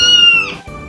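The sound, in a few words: cat meowing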